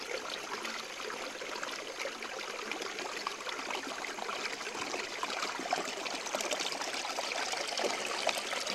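A mountain stream trickles and splashes through a rocky gorge in winter, a steady close wash of water with no voices over it.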